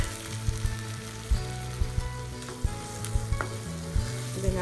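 Minced paneer keema masala fries in a pan with a busy, close sizzle, punctuated by repeated scraping and stirring knocks from the spoon, with no talk.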